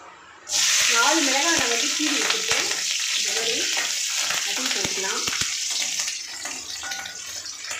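Cinnamon stick frying in oil in a pan, a loud bright sizzle that bursts in suddenly and holds steady, crackling on and off as someone talks over it.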